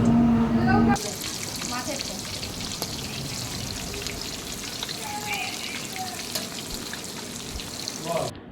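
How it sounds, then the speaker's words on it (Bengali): Fish sizzling and crackling in hot oil, a continuous loud fry after a short moment of louder sound at the start. "এখন তেল গরম হয়ে গেছে অলরেডি মাছ ভাজা হবে"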